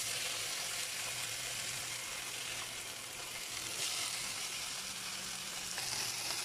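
Beef steak sizzles in hot oil on a Supra induction hotplate, a steady dense frying hiss that runs the whole time at moderate level, with no talking.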